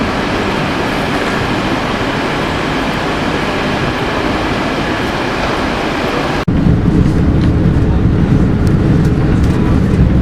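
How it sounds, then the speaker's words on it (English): A steady, loud rumble of a Southeastern electric passenger train running toward Ashford International fills the clip, shifting abruptly to a deeper, heavier roar partway through as the ride continues. "this is my southeastern train to Ashford International"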